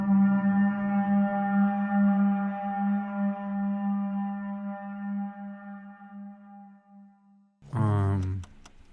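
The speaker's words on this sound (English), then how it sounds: "This is the noise of the infamous Crow Mauler." A droning boss noise from the horror game Fear and Hunger, a steady low hum with stacked harmonic tones held for several seconds, then a sudden loud, rough burst near the end.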